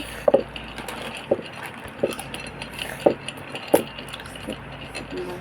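A utensil stirs food in a cooking pot, giving a handful of sharp scraping clinks spaced about a second apart over a low background murmur, close and fairly quiet.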